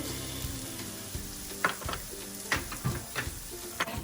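Garlic and half a medium onion sizzling in a pan for an Afghan stir-fry of potatoes and eggs, a steady close crackle broken by a few stirring scrapes.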